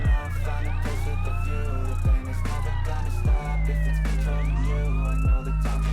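A police car siren in the video game MTA San Andreas wails loud and continuous, sweeping up and down over a steady low engine drone, with a few brief thuds and no talk.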